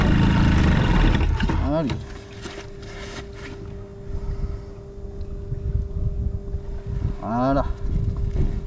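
An Airsal CPI 70 scooter engine, boosted, fires up with the choke on and settles into a steady, droning idle that runs throughout, with wind buffeting and someone speaking briefly over it.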